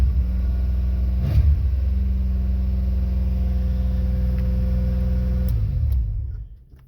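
A 1989 Chevy Celebrity engine with a sticking accelerator pedal holds a steady, fairly high idle with a deep continuous drone and rumble, briefly rising before settling, then cutting off near the end.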